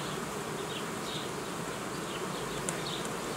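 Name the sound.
honey bees buzzing on a hive frame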